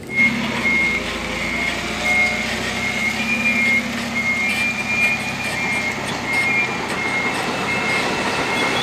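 A toy forklift sounds a steady run of evenly spaced electronic reversing beeps, fairly close and continuous throughout, over a low background rumble.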